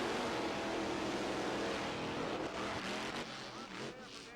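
Monster trucks racing in an arena, a loud continuous engine roar that fades somewhat toward the end, with a faint voice underneath.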